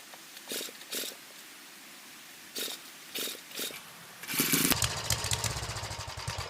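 A cheap track-drive snowblower engine gives several short bursts, like failed starts, then catches and runs with a steady, rattling chug. The sound is fairly close and a little muffled.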